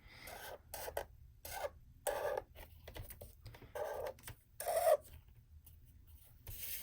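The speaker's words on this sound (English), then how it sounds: "I'm going to go back in and erase." An eraser rubs across a pencil drawing on paper in short, close scratchy strokes, several quick bursts separated by brief silences.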